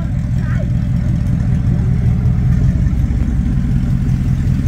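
A Dodge Dakota R/T pickup truck engine runs steadily up close, a dense, even low rumble that holds at a constant idle throughout with no clear revs.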